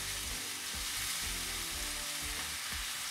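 Salt and MSG stir-fried in a hot pan for takeaway-style special fried rice, a steady loud sizzle with repeated low scraping thumps of stirring throughout, no talking.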